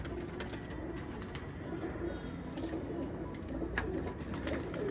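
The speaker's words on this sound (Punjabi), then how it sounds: "ਇਹ ਡੱਬ ਵਾਲਾ ਕਬੂਤਰ ਜੀ ਇਹ ਨਰ" A male pigeon coos on a rooftop in Sultanwind village, soft low repeated coos mixed with faint background noise and occasional light rustles.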